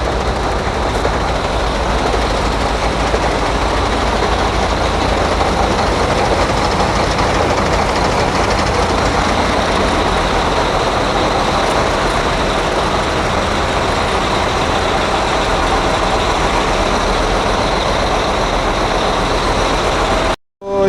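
A large vehicle's engine runs loud and steady at an annual vehicle inspection in Oman, a continuous broadband rumble throughout with no pauses, cutting off abruptly at the end.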